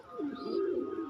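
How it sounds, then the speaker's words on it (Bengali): A domestic pigeon gives a single low, rolling coo lasting about a second, close and clear against a quiet background, with no one speaking. "কেউ যদি নিতে চান এই পায়রাগুলো ভালো ভালো পায়রা আছে, দেখে নিন।"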